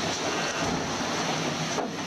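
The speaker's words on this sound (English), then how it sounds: "A lot of water over the boat at the moment." Sea water washing over a sailing boat in open ocean racing conditions, a steady loud rush of spray and surf mixed with wind noise on the microphone, with no talk.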